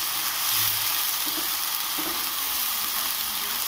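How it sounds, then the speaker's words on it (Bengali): Coconut paste fries in a pan for a chalta sour relish, giving a loud, steady, close sizzling hiss with a few faint stirring scrapes underneath. "দিয়ে এবার আমি নারকেলগুলিকেও আবার ভালো করে ভেজে নেব"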